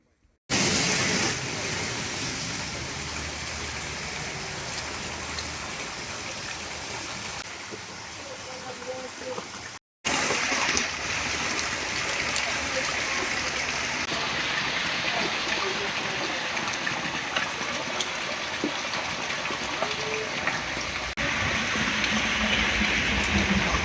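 Steady monsoon rain pours down in Pathardi taluka, a continuous broadband hiss, with a brief break partway through before it resumes just as dense and even.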